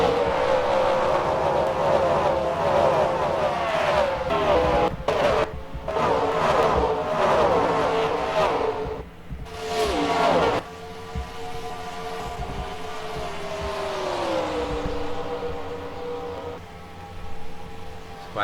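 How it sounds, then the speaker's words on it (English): MG Cup Series race cars at Las Vegas roar past in a dense, continuous engine drone, with pitch rising and sliding as they accelerate and pass, loud and close throughout. "We're racing once again."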